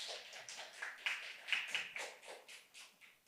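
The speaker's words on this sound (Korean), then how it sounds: "고생하신 다채로이 팀에게 박수 부탁드리겠습니다." A small audience gives scattered, uneven clapping for a presenting team at a youth social living lab event in Daegu, the claps fairly faint and loosely spaced, rising and falling over a few seconds.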